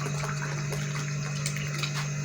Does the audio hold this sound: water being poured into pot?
yes